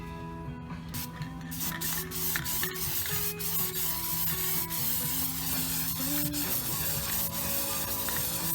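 Plasti Dip is sprayed from an aerosol can onto a dash vent from a 1970-72 Chevelle in short bursts of hiss, with clicks and rubbing sounds over a steady mechanical hum.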